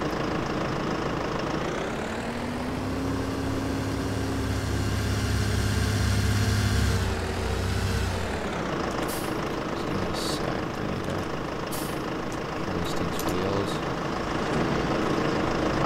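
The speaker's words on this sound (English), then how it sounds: "These tractors, they sound so much louder and different than the other normal tractors." Heavy Lamborghini tractor engines in Farming Simulator 19 rumble and rev steadily for several seconds, a loud low drone that rises and then settles into a rough, noisy idle.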